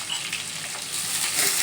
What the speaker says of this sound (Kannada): ಆಯಿಲಲ್ಲಿ ನಾವು ಈ ಥರ ಲೈಟಾಗಿ ಫ್ರೈ ಮಾಡ್ಕೋಬೇಕು